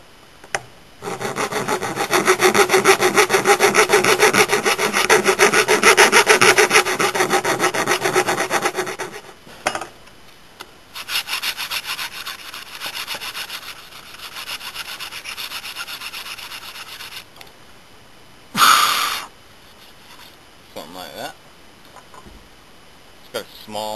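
A file rasps against the drilled finger holes of a handmade wooden Native American style flute, cleaning out splinters in long scraping bursts, then shorter intermittent rubs and a few knocks, close up.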